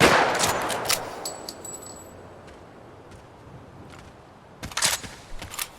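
Rifle gunfire from a 5.56 or 30-06 weapon in the video game Project Silverfish, with a loud opening shot fading into a quiet stretch, then a second cluster of crackling shots near the end.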